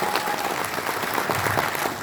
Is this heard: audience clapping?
yes